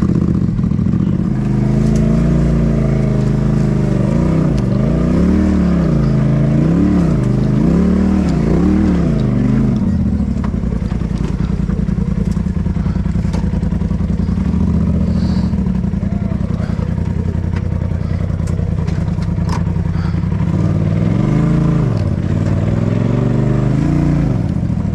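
Polaris RZR side-by-side engine droning and revving on an off-road trail, loud and close, with rising and falling throttle surges early and near the end and people talking over it.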